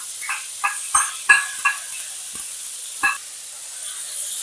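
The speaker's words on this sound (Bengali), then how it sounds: "এরপর জিরের যে পেস্টটা তৈরি করে রেখেছিলাম সেই পেস্টটাকেও দিয়ে দিলাম" Cumin paste hits a hot pan for a fish curry with potato and ridge gourd, giving a soft sizzle under a handful of close spatula scrapes and taps that fade into a quiet hiss.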